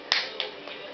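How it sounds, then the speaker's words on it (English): A young child claps her hands at a birthday dance, one sharp clap followed by a softer second, close up over a quiet room. "Can you clap your hands?"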